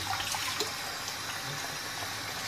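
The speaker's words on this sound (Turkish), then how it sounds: "Şu bıçağı bir kez daha yıkasak iyi olur." Tap water runs steadily from a faucet while a knife is rinsed under it, a continuous close splashing hiss with no talk.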